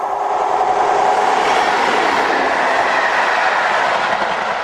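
UK charter railtour train running on rails, a loud, continuous rushing roar of wheels and track noise that stays close and steady throughout, with no talk.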